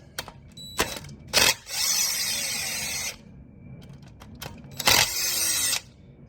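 A power tool, likely an impact or ratchet driver, backs out two top bolts on a Porsche Turbo S engine: two sustained whirring bursts, each set off by sharp clicks and clanks, close up in a quiet shop with no talking.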